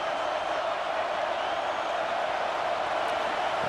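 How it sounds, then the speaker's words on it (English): A steady roar of a big stadium crowd in a college football video game rises behind the defense before a red zone stop, a dense, even wash of noise with no break. "here comes the noise. This crowd is trying to inspire this defense to make a big red zone stop."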